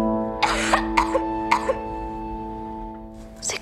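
Several sharp, wet coughs come in quick pairs, close and loud over a sustained musical tone, followed by a pause and one more cough at the end.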